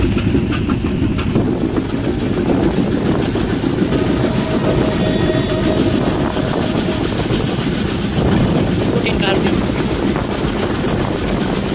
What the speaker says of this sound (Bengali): ট্রেন এসে পৌঁছেছে 2টা 40 মিনিটে SM মনসুর আলী স্টেশনে